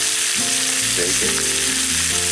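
Bacon sizzles loudly in a hot frying pan, a steady dense crackle running without a break under a faint low hum.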